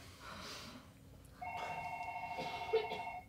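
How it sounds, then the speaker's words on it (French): A telephone rings during a French stage comedy, a faint tonal ring starting midway and holding steady to the end, with soft background noise and a brief thump near the close. "Téléphone."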